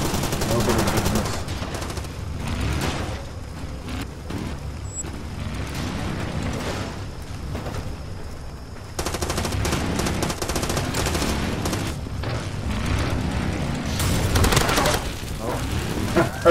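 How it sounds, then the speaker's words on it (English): Uzi submachine gun in the video game Far Cry 2, rapid bursts of automatic fire repeating over and over amid booms and game ambience, loud and close throughout. "It's good for close range. It just spits out bullets like"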